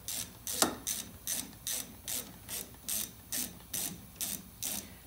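A hand ratchet clicks in a steady, even rhythm, about two strokes a second, while tightening brake bolts on a 2000 Saturn S-series coupe, close and distinct with no talk.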